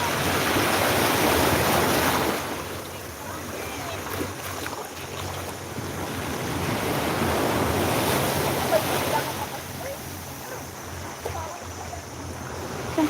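Sea waves wash steadily onto the shore of Lamma beach, a loud continuous surf roar that swells and eases with each wave, with wind buffeting the microphone throughout.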